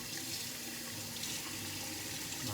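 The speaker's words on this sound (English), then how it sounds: "And now we'll rinse all of that out." Running water rinsing through trumpet tubing, a steady close hiss of tap flow that fills the whole stretch with no voices.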